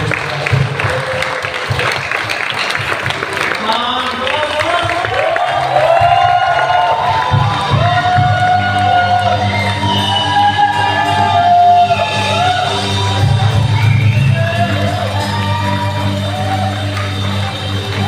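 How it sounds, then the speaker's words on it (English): A church congregation claps and cheers in praise, a loud sustained wave of applause with whoops and shouts throughout, while a voice speaks over it. "Can you give a clap of praise to God?"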